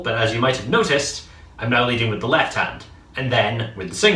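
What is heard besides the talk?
None of the usual background noises is heard.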